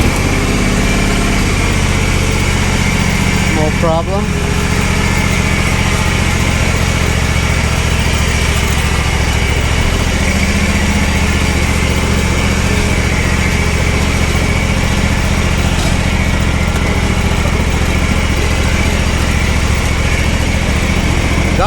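A Kawasaki FR730V V-twin engine on a riding lawn mower, still hot, fires up without choke and settles into a steady, loud, close running drone with a brief speech-like burst near the start; a short word is spoken once.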